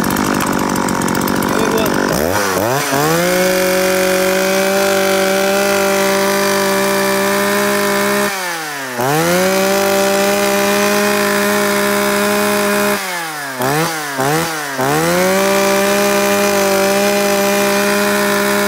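A Japanese X4 chainsaw is pulled to life and revs loudly and steadily, its engine dropping briefly to idle twice before surging again, with a short spoken remark at the start.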